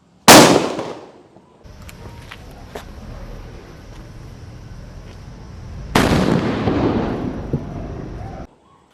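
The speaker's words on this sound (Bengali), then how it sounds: "এইবার গাইজ ওর থেকে বড় বম ফাটাবো, চলো" A large Diwali firecracker bomb goes off in two loud, close blasts, a sharp burst at the start and another heavy explosion partway through, with crackling debris and a low rumbling background between them.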